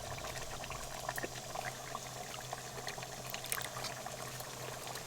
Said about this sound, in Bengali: আজকে আমি দুধে ভেজানো কেশরে গোলাপ জল, কেওড়া জল, মিঠা আতর সব একসঙ্গে দিয়ে দেব